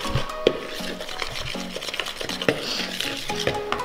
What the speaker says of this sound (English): Okay, so just mix that up, let it get all combined.